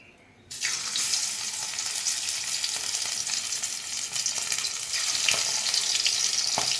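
Pabda fish frying in mustard oil in a wok: a steady, dense sizzle with crackling spatters that starts abruptly and continues loud and close throughout, with no talking.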